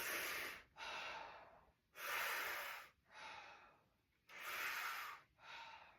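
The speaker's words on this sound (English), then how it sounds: "We're going to do 3 mouth breaths, 3 nose mouth breaths." Three rounds of deliberate breathing in a guided nose-mouth exercise, each a long, airy inhale followed by a short pause and a softer exhale, close and quiet, with no talking.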